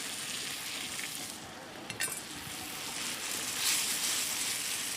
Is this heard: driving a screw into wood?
no